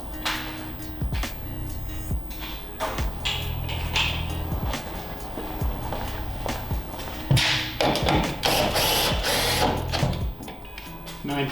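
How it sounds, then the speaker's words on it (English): Ratchet tightening fiddly screws on a Nissan Skyline HICAS part, irregular clicking and tapping with clunks in a busy, noisy workshop. "Getting in those fiddly screws."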